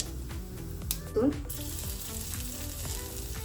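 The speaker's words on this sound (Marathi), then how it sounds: "गरम झालं की फोडणीमध्ये मी काय करते, जिरा आणि अगदी थोडासा ओवा घालते" Hot oil sizzles steadily in a pan as cumin and a little carom seed hit it, with a brief louder crackle and a faint voice in the background.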